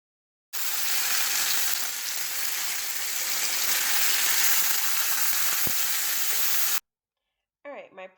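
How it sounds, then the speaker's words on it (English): Pork chops sizzle loudly in a frying pan after being turned, a dense steady hiss lasting several seconds before cutting out, followed by a brief bit of speech. "now I'm just going to flip them over and do the exact same thing and let them cook from the other side"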